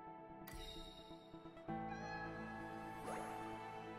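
A cat meows in the video game Wuthering Waves, a drawn-out tonal mew heard close and clear over layered game music, with a second shorter call near the end.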